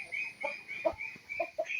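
Chickens and ducks cluck and squawk in short, irregular calls against a steady high-pitched background hum, fairly close.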